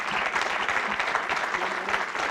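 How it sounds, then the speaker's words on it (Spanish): A room of listeners claps at a book presentation, producing continuous, thick applause that holds a steady level from start to finish without anyone speaking. "quiero pedirle de favor a todos, le demos un aplauso"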